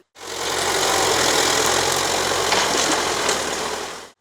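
A tractor fitted with special equipment renewing mineralized firebreak strips in a forest near Poltava runs with a loud, steady, rough engine drone that starts abruptly and holds for several seconds.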